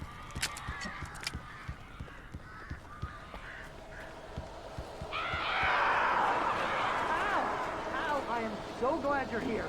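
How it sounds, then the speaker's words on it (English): Birds crying and flapping in the video game Alan Wake, with harsh honking caws rising to a loud, dense flurry midway, and a voice talking underneath. "These birds are weird."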